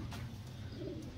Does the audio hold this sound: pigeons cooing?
yes